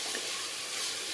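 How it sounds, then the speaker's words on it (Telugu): Ginger garlic paste fries in a pan for green pulao, a steady, even sizzle with a soft hiss that holds at moderate volume throughout, with no voices. "ఇది కాస్త పచ్చివాసన పోయేంత వరకు ఫ్రై చేసుకోవాలండి."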